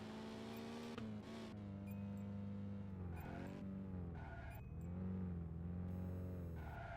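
Car drifting in the video game Initial Drift Online: a loud, sustained engine drone with shifting pitch, rising and falling through revs as it slides around corners, with tire squeal layered on top and no talk.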